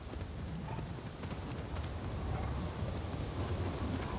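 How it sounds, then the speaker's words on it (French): Wind blows steadily through an outdoor scene in the video game Assassin's Creed Shadows, a continuous low rushing roar that builds slightly toward the end, with no voices over it. "Il y a du vent. Il y a beaucoup de vent."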